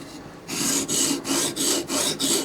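An OTF knife blade being sharpened, with about five rhythmic rasping strokes, each a loud, close scrape with brief pauses between, no talking.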